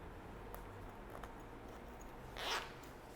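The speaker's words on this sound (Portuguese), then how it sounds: "Tira para fechar o zíper e passa novamente" A zipper pulled closed on sewn fabric for a glasses case, one short quick rasping zip near the end after faint handling sounds, quiet and close.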